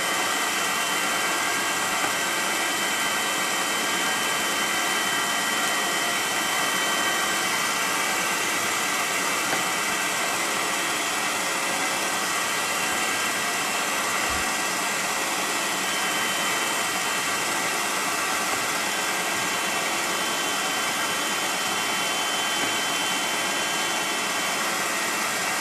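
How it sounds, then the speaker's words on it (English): A steady, loud broadband whine of a grinding wheel spinning throughout, with a faint brief contact sound near the middle as a drill bit tip touches it; no voices. "The drill tip isn't quite touching the grinding wheel, so I can wind it in until it does."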